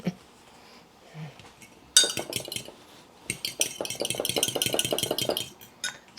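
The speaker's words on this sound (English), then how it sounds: "So we got the egg whipped up a little bit." An egg whisked in a bowl for keto chaffles: a fork or whisk clinks rapidly and rhythmically against the bowl in close, bright bursts, with a brief pause between strokes.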